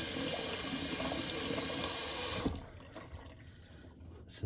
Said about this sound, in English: Have to rinse my razor now